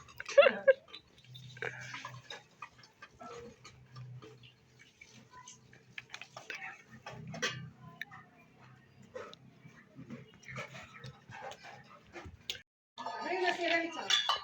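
A young girl sets out and stacks dishes, upturning them while preparing an iftar meal. The dishes give faint, scattered clinks and light taps, and adult voices speak over the clatter.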